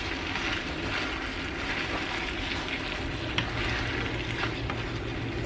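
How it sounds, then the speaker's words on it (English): Broccoli and soy sauce sizzle and hiss steadily in a hot pan as they are stirred together, a continuous close frying noise with a few faint scrapes and no talking. "I'm going to add our broccoli and a little bit of soy sauce. Stir that all together."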